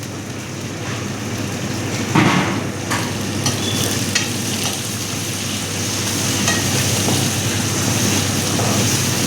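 Onion and curry leaves fry in a pan for sambar, giving a steady crackling sizzle throughout, close and moderately loud, with occasional stirring clatter and no voices.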